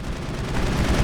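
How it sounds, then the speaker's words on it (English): Heavy machine gun fire in the video game Mass Effect: a dense, loud, continuous rattle of rapid shots with booming low rumble that fills the whole moment. "Heavy machine gun."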